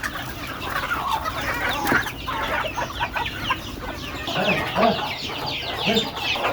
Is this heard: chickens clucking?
yes